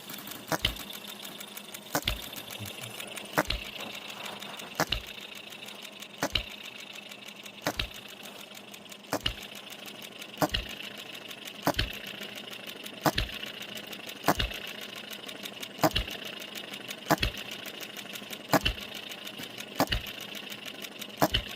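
A small OKMO B02 engine runs steadily with a sharp, regular knock about every second and a half, a continuous mechanical hum beneath it, no voices.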